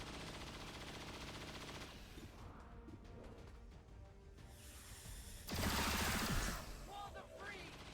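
Gunfire from a soldier's weapon in XCOM 2, a burst of shots with a loud crash near the middle, set among steady game sounds and effects.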